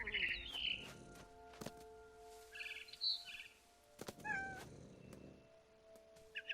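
A cat in What Remains of Edith Finch gives a few short meows and mews mixed with bird chirps, with soft thumps and quiet gaps between the calls, all fairly faint with no speech.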